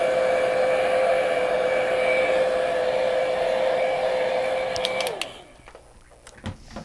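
A hair dryer blows loud and steady at close range to dry wet paint on a painting, holding one even whine for about five seconds before switching off, followed by a few small knocks in the quiet.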